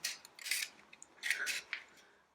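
A blade cuts through material while a TED20 tractor crankshaft is being fitted, giving a few short, sharp scraping strokes in quick succession, close and fairly quiet.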